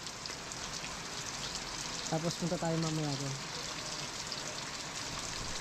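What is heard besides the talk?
heavy rain falling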